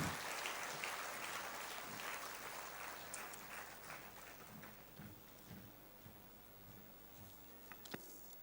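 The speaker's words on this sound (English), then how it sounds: "May I please request all of you to give him a thunderous round of applause." Audience applause at an inter-religious meet held at the Basilica of Bom Jesus during the St Francis Xavier novena: soft, steady clapping from a large gathering, heard from a distance and fairly faint, continuing without pause.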